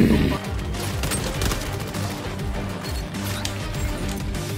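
Rapid M16 gunfire in the shooter XDefiant, dense bursts of sharp shots crackling over a busy battle din, loud and close throughout.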